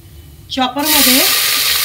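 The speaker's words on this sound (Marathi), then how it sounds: "तेल तर तापलेलं आहेच, त्यात 1 मोठा चमचा जिरं घालूया." Cumin seeds hit hot oil for a veg biryani base and burst into a loud, steady sizzle that holds to the end, after a brief voice at the start.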